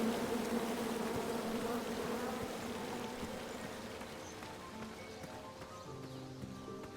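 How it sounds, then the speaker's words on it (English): A swarm of angry bees from a tree chopped down in King's Quest drones as a dense, continuous buzz, fairly loud at first and fading slightly over several seconds, with soft game sounds mixed underneath. "you chop down the tree full of angry bees"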